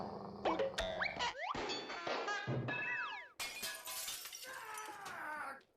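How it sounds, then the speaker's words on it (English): Window glass smashing as a sound effect, a loud shatter and breaking burst with bright ringing shards and tinkling debris that trail off over several seconds, preceded by whistles and thuds of a bouncing ball. "the ball bounces and breaks Old Man Johnson's window"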